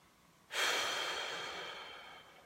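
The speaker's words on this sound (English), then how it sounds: "Take a breath." A single long, deep breath taken close by in a calm, quiet setting, starting suddenly and fading slowly over about two seconds.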